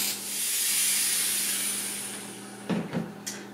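A Pur Steam Therma PRO 211 steam cleaner releases a long, steady hiss of steam that swells and eases, then two or three short bursts and clicks near the end.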